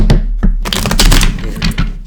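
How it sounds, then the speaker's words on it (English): Tarot cards being shuffled by hand, a close, dense flurry of crisp riffling clicks and soft slaps lasting about two seconds with no talking. "One more shuffle."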